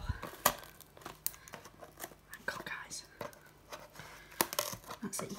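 Close crinkling and rustling of packaging with sharp snips and tearing as scissors cut it open, while someone whispers throughout.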